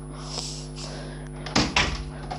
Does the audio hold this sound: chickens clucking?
no